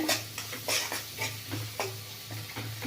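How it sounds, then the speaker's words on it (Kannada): Onion and capsicum frying in a pan for egg chilli masala, a steady close sizzle broken by repeated stirring scrapes, with no talking. "ಇದು ಸಿಮ್ಮಲ್ಲೇ ಇಟ್ಕೊಂಡು ಫ್ರೈ ಮಾಡ್ಕೊಳ್ಳಿ, ಇಲ್ಲಾಂದರೆ ಮಸಾಲೆ ಪದಾರ್ಥ ಎಲ್ಲ ಸೀದೋಗ್ಬಿಡುತ್ತೆ"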